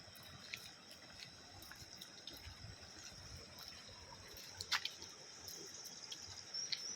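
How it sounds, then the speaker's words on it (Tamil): Faint, steady rush of a rain-fed stream running through a farm, a soft continuous trickle with a few brief splashy drips, and no voices. "தண்ணி ஓடையாக ஓடுது பாருங்கள்."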